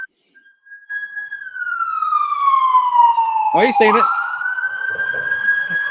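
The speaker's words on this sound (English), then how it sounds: "Non-stop sirens around here." A police siren wails and sweeps in pitch as it passes, growing louder then holding steady, with a brief spoken remark partway through.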